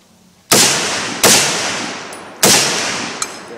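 Three loud, close M1 Garand rifle shots at an outdoor shooting range, each a sharp crack trailing into a long echoing decay, spaced unevenly with a small click between the last two.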